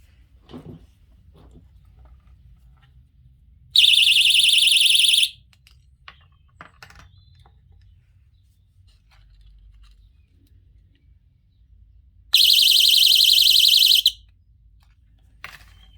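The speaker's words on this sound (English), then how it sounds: "It is a panic alarm." A personal panic alarm, rated 110 to 140 decibels, gives two piercing high-pitched blasts, each lasting about one and a half seconds, separated by quiet handling noises.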